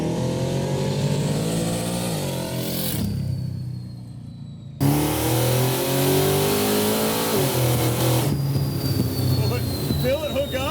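Supercharged 900 hp six-wheel Chevy C10 truck engine revving with rev-matching blips, loud and close, rising and falling through the gear changes over a steady rumble.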